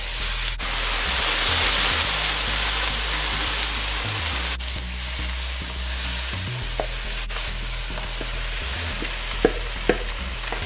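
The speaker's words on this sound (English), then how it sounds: "Now I'm going to add the dal mixture." Dal mixture hits a hot pan for pholourie batter, giving a loud, steady frying sizzle with stirring scrapes and a few sharp clicks toward the end, no voices.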